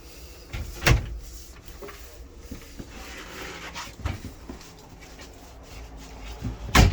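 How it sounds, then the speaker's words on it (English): An RV door at an indoor RV show is pulled shut, giving sharp thuds and latch clunks, with a few loud knocks spaced across several seconds amid quiet background noise. "Let's see if we close this door."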